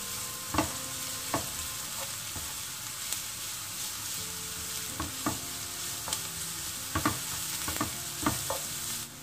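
Carrots and onions sauté in a pan for vegetable bourek filling, a steady hiss of frying broken by repeated scrapes and knocks of a utensil stirring, close and continuous with no talk.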